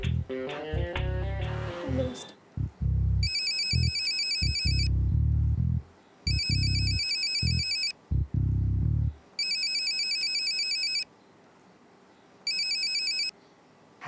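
A phone ringtone plays while a call is being placed in a Marathi TV drama scene. Four repeated electronic ringing bursts are separated by short gaps, and brief talk and low sounds come before them.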